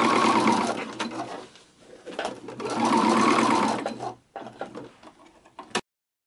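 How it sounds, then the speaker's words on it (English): Sewing machine stitching Velcro close to the edge along a fabric bag panel, running in two long bursts with short pauses and a few brief stop-start runs, steady and close with no talking. "So now I'm going to sew the Velcro to the outer bag piece, just like I did on the lining."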